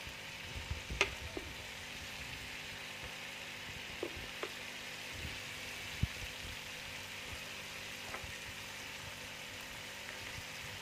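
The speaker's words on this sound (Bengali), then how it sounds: "এবার মশলাটাকে আমি একটু ভালো করে ভেজে নেব" Spice masala with tomato sauce and chili sauce frying in a pan, a steady low sizzle throughout with a few faint clicks and scrapes of stirring.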